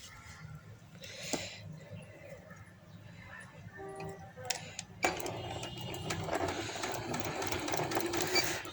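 A sewing machine stitches lace onto a maxi frock, starting with faint scattered mechanical clicks and then running in a steady, close whirring rattle for the last few seconds; someone talks quietly over parts of it.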